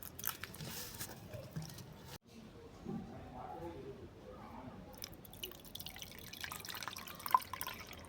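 Mashed jamun fruit pulp mixed with water, sugar and lemon juice is strained, giving soft, wet dripping and squelching sounds, faint and close, with a quiet voice in the background.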